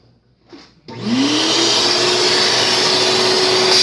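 A shop vacuum starts up near a 1997 Chevy Silverado pickup engine to suck up metal shavings, a click and then a rising whine settling into a loud, steady close-up roar that carries on without talk.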